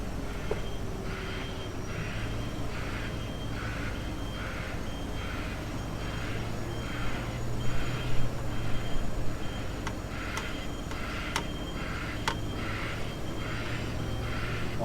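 A DAF truck reverses slowly while its reversing alarm beeps in a steady repeating rhythm over a low diesel rumble, with a few sharp clicks partway through.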